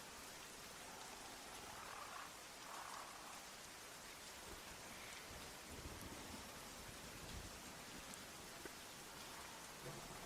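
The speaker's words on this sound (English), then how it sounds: "just the sound of rain" Heavy rain pours steadily onto surfaces, a dense, continuous hiss with a faint low rumble of distant thunder underneath, loud and unbroken throughout with no voices.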